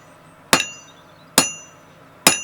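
Three sharp, loud metallic blows from a power hammer forging a hammer drift under a flat die, spaced under a second apart and ringing briefly after each impact, with no talk.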